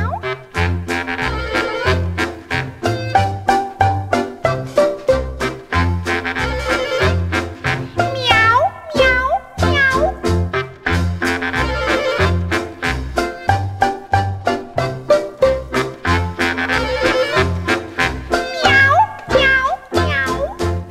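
Cat meows sound within a bouncy pop song about a snowy white cat, as a few drawn-out, sliding meows ride over the steady beat and music.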